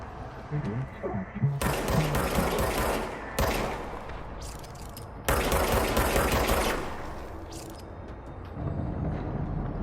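Bursts of service weapon gunfire from the video game Control, several rapid fusillades of loud close shots separated by short pauses, with game sounds in between.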